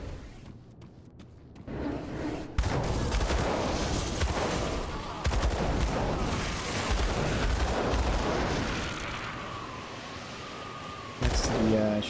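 Gunfire from dual pistols in the action RPG Grim Dawn, a loud, dense run of overlapping shots and impacts that carries through most of the stretch with game effects layered underneath.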